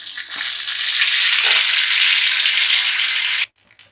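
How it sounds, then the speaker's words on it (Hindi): Mustard seeds dropped into hot oil for a sambar tempering, sizzling loudly and steadily for several seconds before cutting off abruptly. "अब हमारा तेल गर्म हो गया है। अब इसमें हम राई डालेंगे,"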